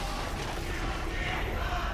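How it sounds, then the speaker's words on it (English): Audience at an LCS League of Legends esports match, H2K against Unicorns of Love, a dense roar of crowd cheering that stays steady and loud for two seconds. "Love Hurt's crew in the audience cheering, fear our horns"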